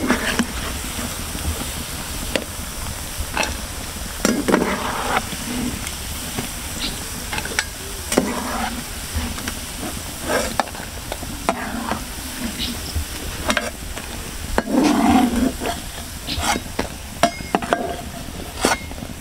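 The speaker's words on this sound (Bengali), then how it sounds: "এভাবে আমি বাকি পিঠাগুলো ভেজে নেব।" Coconut and semolina palm pitha fry in hot oil with a steady sizzle and hiss, broken by scattered clicks and scrapes of a utensil stirring in the pan, with no talking.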